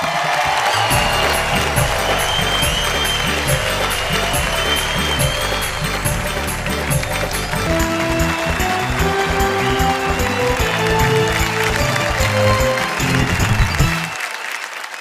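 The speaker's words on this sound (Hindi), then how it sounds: "उनके लिए जोरदार तालियां" Loud, sustained applause from an audience at a Hindi poetry stage show, greeting poet Gopal Das Neeraj as he takes his seat. It fills the whole stretch, dense and close, with music playing underneath.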